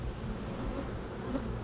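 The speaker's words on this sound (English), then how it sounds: "There's all kinds of bees in the box." Honey bees in a hive box during a frame inspection make a low, continuous buzzing hum, steady and close, with no talking.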